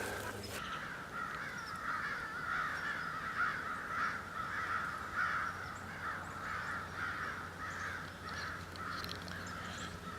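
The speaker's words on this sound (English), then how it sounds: "those crows are chasing an owl" Several crows caw repeatedly in a steady series of harsh calls while chasing an owl outdoors on a wet morning hike, moderately near and continuing throughout without talk.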